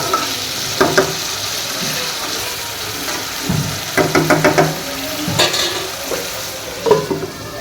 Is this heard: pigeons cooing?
no